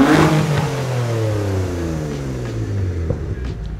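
A Mitsubishi Galant VR4 with a V6 engine revs loud and close, the pitch surging at first and then sliding smoothly down as the engine winds back.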